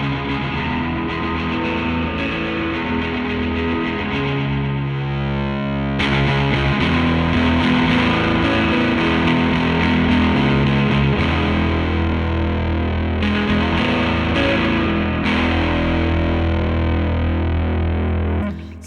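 Electric guitar plays through an OBNE Beam Splitter pedal turned fully up to delay, notes repeating and smearing into a dense, distorted wash that swells louder midway and stays thick throughout.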